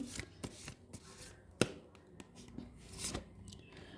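Tarot cards shuffled by hand in a quiet room, giving a series of soft papery riffles and slaps with one sharper snap near the middle, close and fairly faint, with no talking.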